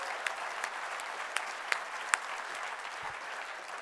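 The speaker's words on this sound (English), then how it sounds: "So let's give another round of applause for them." Steady audience applause fills a large room at a health conference opening session, a dense wash of many hands clapping with a few sharper claps standing out, fairly distant and even throughout.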